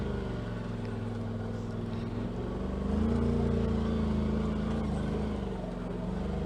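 A 2018 Polaris RZR Turbo side-by-side on 32-inch Tusk Terrabite tires creeps along at a crawl, its engine droning steadily near the listener with a slight rise in pitch partway through.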